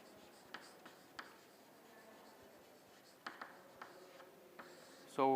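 A pen writes on paper during an engineering lecture: faint, steady scratching broken by sharp taps and strokes, with a louder tonal noise cutting in at the very end.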